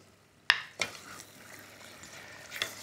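Beef rendang with kaffir lime leaves and desiccated coconut being stirred in a pan, a sharp spoon knock followed by soft scraping and low sizzling, then another light scrape near the end, close and fairly quiet.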